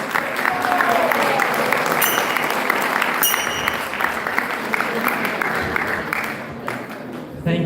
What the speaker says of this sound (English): Can we have another big round of applause?